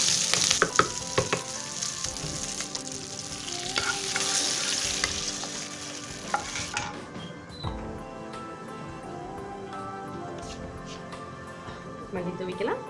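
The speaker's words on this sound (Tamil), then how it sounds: "நம்ம நல்லா வதக்கி போட்டுக்கலாம்." Small onions sautéing in a pan for hotel-style Saravana Bhavan sambar, a steady close sizzle with scraping stirs, loudest at the start and easing later, with a voice talking over it.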